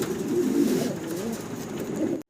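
Several pigeons coo together, including pet breeds kept for sale such as a Lahori male, in a steady close stream of low throaty calls that stops abruptly at the end.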